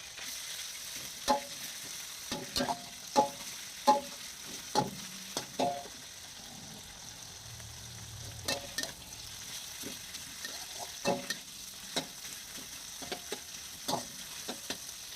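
Pork with garlic and clams stir-frying in hot oil, a soft steady sizzle under repeated scraping strokes of a spatula against the pan, close and moderately quiet.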